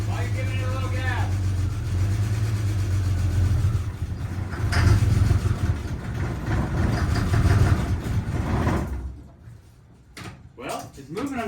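A Jeep Comanche pickup, revived after sitting for a long time, runs with a low steady engine drone as it creeps in reverse under its own power, while people talk over it throughout; the engine cuts off near the end.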